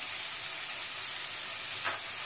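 Medium-sized paneer cubes drop into sautéed spices in a hot tawa and fry with a steady, close, even sizzle that holds for the whole moment, no voices.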